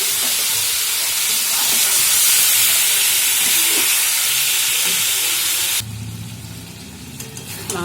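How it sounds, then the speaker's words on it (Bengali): Marinated meat added to a pan of fried onions and salt, a loud, dense close-up sizzle and hiss with stirring, dropping to a softer bubbling fry in the last couple of seconds. "এবার যে ম্যারিনেট করে রেখেছিলাম এই মাংসটা আবার দিয়ে দিলাম"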